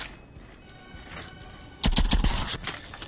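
Gunfire in the video game The Light Brigade: a sudden close burst of several sharp shots after a quiet stretch, loud against faint background ambience.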